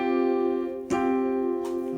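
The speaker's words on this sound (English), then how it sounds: "So together you're going to have a triad that sounds like this." A sustained triad chord with bright, even harmonics ringing steadily for two seconds, quiet, with a brief percussive attack near the middle and another soft burst toward the end; no talking.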